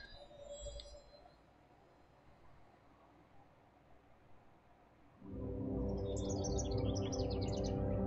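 A bird chirps in the game The Tale of Bistun, a rapid run of bright tweets arriving over a sudden swell of loud, steady ambient noise after a quiet stretch.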